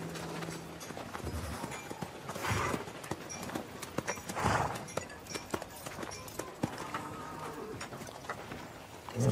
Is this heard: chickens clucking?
no